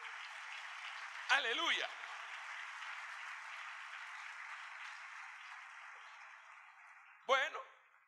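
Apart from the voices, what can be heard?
applause in church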